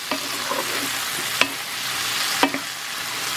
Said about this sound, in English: and this all gets stirred into the onions.